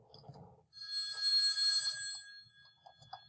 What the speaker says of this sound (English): I forgot to silence my phone. It's ringing.